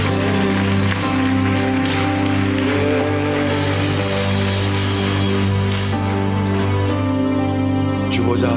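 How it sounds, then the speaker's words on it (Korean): A church congregation at a Sunday evening service applauds under sustained organ or keyboard chords, the clapping a steady wash beneath the loud, continuous music. "우리 주께 박수하십시다."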